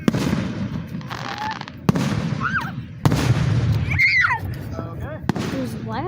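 Fireworks bursting overhead during a 2024 celebration, with several sharp booms spaced a second or so apart and crackling tails between them, while people nearby talk and react excitedly.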